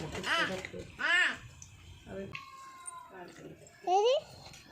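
A domestic cat meows several times in a home kitchen, clear mid-pitched cries near the start and a louder one near the end, with people talking nearby.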